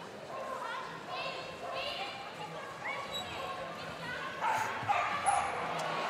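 Quick yips and barks from a young three-year-old agility dog during a run at a large team agility world championship, heard among crowd noise and commentary, with a louder burst near the end.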